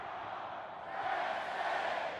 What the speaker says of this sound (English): On fall Saturdays, 4 words echo across Beaver Stadium.